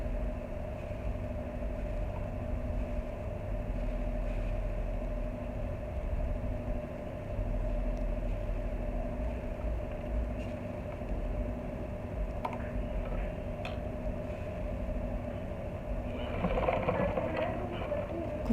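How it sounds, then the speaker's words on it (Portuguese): A sewing machine runs continuously while backstitching the seam of a unisex baby bootie, a steady close motorized hum with faint rhythmic needle ticking, a few brief handling noises near the end, no talking. "costurando, ó, de retrocesso no início da costura e no final também, ó, com retrocesso"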